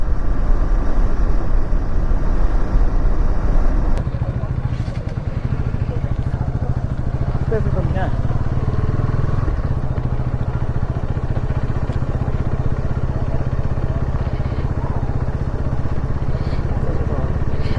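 A KTM Duke 250 Gen3 motorcycle is ridden along local roads, its engine a loud, continuous drone with road and wind rumble that holds steady for the whole stretch.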